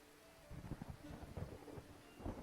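Rainstorm in the Dead in Vinland video game: low rolling thunder rumbles under steady rain noise, swelling and fading in several soft pulses.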